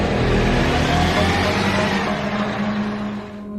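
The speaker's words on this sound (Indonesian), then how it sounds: "Setelah angkot berangkat" An angkot minibus pulls away, its engine droning steadily and loud up close, the sound easing slightly toward the end.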